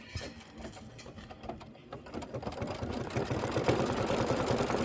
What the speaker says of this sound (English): Now it's going to do the decorative stitching